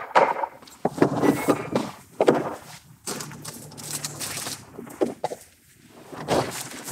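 Light knocking on a film developing tank to free air bubbles during home black-and-white film processing, a few dull wooden thunks spread across the clip, close by and moderately loud.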